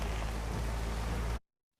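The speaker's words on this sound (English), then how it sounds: "Now, we have the rain coming down." Steady heavy rain pours down in a night scene from the Hitchcock film Psycho, a dense, even hiss with a low rumble underneath that cuts off abruptly to silence.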